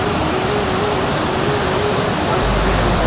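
Dense, loud rushing water from a mountain waterfall on a pilgrimage trek route, where hikers cross by stepping on stones, roaring continuously and close with no break.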